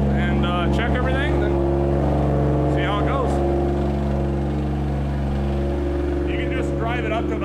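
A 2JZ-swapped Mustang warms up on a hub dyno, its engine holding a steady, loud, close idle drone while a person talks over it.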